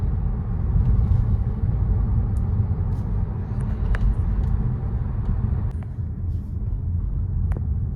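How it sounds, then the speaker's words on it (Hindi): Inside an MG Windsor EV electric car driving at night with the air conditioning running, a steady low road rumble and hum fill the cabin, with a few faint ticks and clicks on top. "कुछ ऐसा माहौल है गाड़ी का अंदर से रात के टाइम पे"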